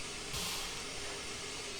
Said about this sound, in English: This right here is an oscillating